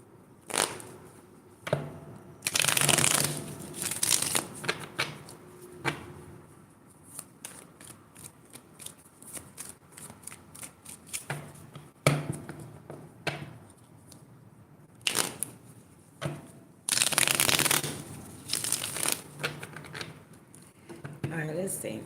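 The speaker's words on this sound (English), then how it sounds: "I get a brand new deck of beautiful Rider-Waite Smith" A brand-new Rider-Waite Smith tarot deck is shuffled in repeated bursts of crisp riffling and flicking, close and fairly quiet, with short pauses between rounds.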